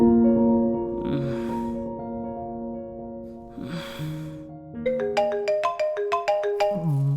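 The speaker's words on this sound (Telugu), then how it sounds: "ఆ ఫోన్ ఎవడో తీయండిరా తొందరగా" Heavy breathing or snoring sounds give way to a phone ringtone playing a bright, repeating melody, loud and close.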